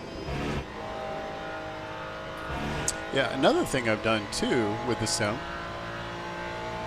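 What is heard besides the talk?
Ferrari GT race car engine, Le Mans Ultimate video game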